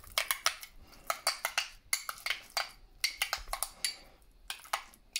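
A spoon stirs opened digestive enzyme capsule powder into a bowl of oatmeal, giving close, crisp clinks and scrapes in a quick irregular rhythm, alone without talk.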